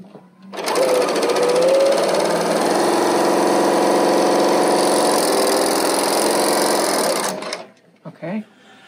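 A Brother L890 serger running steadily at speed to sew a row, a loud, continuous even whir that starts suddenly and stops cleanly near the end, followed by a couple of small clicks.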